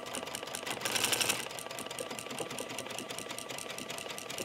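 A domestic sewing machine with a buttonhole foot runs steadily and close, sewing buttonholes with a continuous rapid stitching rattle and a brief louder burst early on.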